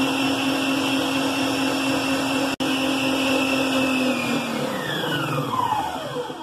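An electric stand mixer beats bem casado sponge batter with vanilla essence, a loud, steady whirring whine that holds, then winds down and falls in pitch near the end.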